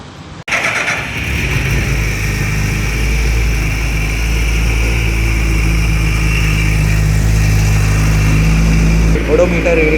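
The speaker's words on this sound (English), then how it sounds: "We are just keeping it at idle so that the engine gets a little warm" A brand-new 2025 Suzuki Hayabusa motorcycle fires up after a brief silence and settles into a loud, steady idle with a deep, even rumble that holds for the rest of the stretch.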